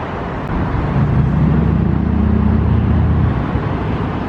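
Steady low engine rumble and road noise from inside a shuttle vehicle on a long drive to Barcelona, a continuous drone that holds at an even level with no talk.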